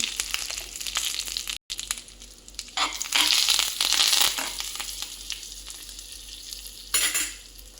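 Curry leaves and turmeric hit hot oil in a tempering for radish perugu pachadi, giving a loud, steady sizzle with bursts of crackle and stirring scrapes that swell and ease over several seconds.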